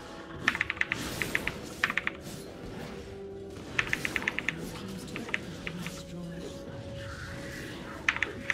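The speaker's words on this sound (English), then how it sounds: "I was typing something." Quick bursts of keystrokes on a computer keyboard during a League of Legends match, clattering in short clusters with pauses between, close and fairly crisp, while people talk over the game.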